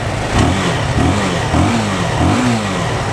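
A Benelli motorcycle, a 78-lot model with a sealed engine, revs up in several quick, loud pulses at close range, each one rising and falling with a mid-pitched engine roar.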